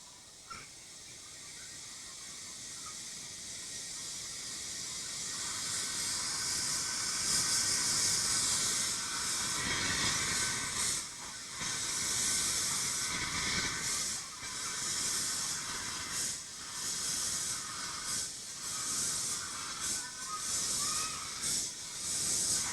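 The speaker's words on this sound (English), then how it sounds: "let's listen to this train moving off" A steam train moving off, with a loud, steady broadband hiss of escaping steam that swells over the first few seconds and keeps going with rhythmic pulsing chuffs, heard close and with no talk.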